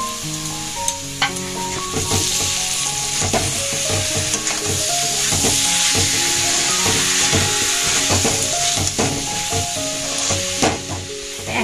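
Cauliflower manchurian with chopped coriander and spring onion greens, stirred and sizzling in a pan: a steady loud hiss with rapid, repeated scraping and knocking of the spoon against the pan, close and continuous.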